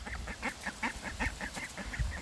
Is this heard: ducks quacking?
yes